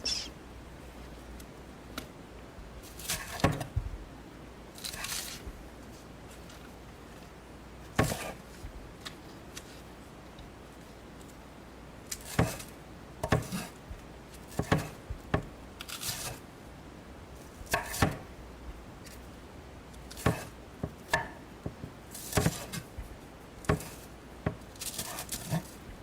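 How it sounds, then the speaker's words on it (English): Knife chopping green onion on a cutting board in scattered bursts of crisp cuts, close and fairly quiet, with soft handling sounds between and no talking. "For kimchi, I usually like to cut the whites off the green onion and use only the green parts."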